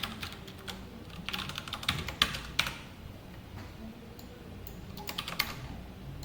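Soft, quick keystrokes on a computer keyboard come in uneven bursts while someone types code, close by and faint against a quiet room.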